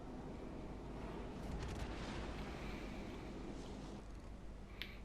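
Naval artillery shells from USS Cleveland battles land around ships in World of Warships Legends, a faint continuous rumbling roar with a few soft bursts rising out of it, heard without talk.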